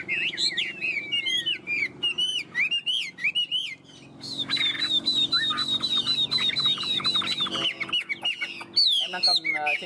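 A tame Chinese hwamei songbird sings loud and close, pouring out a long run of varied whistles, trills and repeated bright notes with hardly a pause, while a low hum and faint background voices sit underneath.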